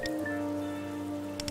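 Rain falling in the video game Persona 5 X, a steady, quiet hiss of rainfall running evenly throughout, layered with soft sustained tones and a few brief higher ticks near the end.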